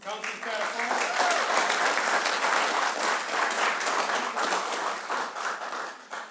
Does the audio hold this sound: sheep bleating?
no